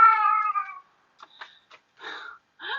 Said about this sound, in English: My cat Busey is telling me what she thinks about all this too